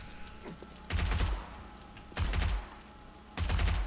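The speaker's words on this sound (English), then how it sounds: "Let's go upstairs and kill the turrets." Gunfire in the video game 7 Days to Die while clearing turrets: three loud, separate bursts of rapid shots about a second apart, with low booming weight, alone and without talk.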